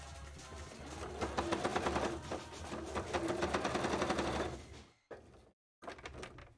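A sewing machine top stitching around the edge of soft, squishy wing covers: a close, rapid rhythmic needle chatter in bursts, then stopping with a couple of short pauses and a restart.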